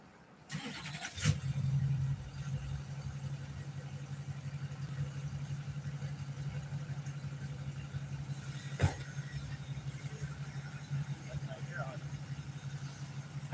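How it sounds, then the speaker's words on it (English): A big truck engine runs steadily close by, a low continuous rumble that starts up in the first seconds and holds through the whole stretch, with one brief sharp knock partway through. "There's a big ass truck right there."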